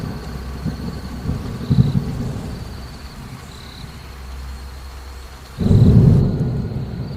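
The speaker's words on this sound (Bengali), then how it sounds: "আকাশে যেই রকম বিদ্যুৎ চমকাচ্ছে দেখে মনে হচ্ছে এই বৃষ্টি আর ছাড়বে না, মনে হচ্ছে সারা রাত বৃষ্টি পড়বে" Cartoon thunder rumbles low over steady heavy rain on a stormy night, with one swelling roll midway and a louder, closer crack of thunder near the end.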